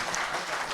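A crowd applauds at the presentation of the 2019 International Soccer Cup, a steady, dense wash of clapping heard from a distance with no pauses across the short burst.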